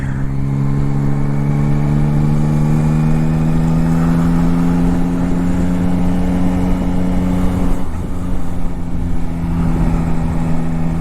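Yamaha Tracer GT9+ motorcycle engine pulling steadily in second gear, a loud continuous mid-pitched drone with a slight rise in revs, heard close and alone through the whole stretch.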